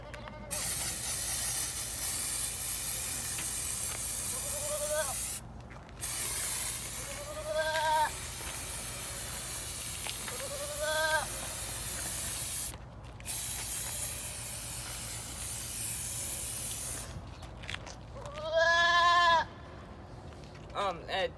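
A 4-H market meat goat being fitted for a show in Boone County, Indiana, bleats several times in short harmonic calls over a steady hiss of spray, with people talking nearby.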